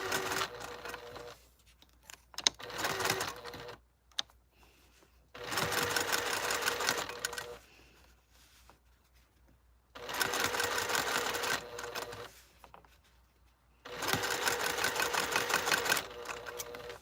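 Sewing machine stitching a 1/4 inch seam runs in four close bursts of rapid whirring, separated by quiet pauses with small clicks as the fabric is repositioned.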